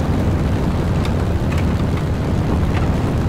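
A Spitfire's engine in War Thunder roars as a loud, steady, unbroken drone with broad rushing noise, close and constant throughout.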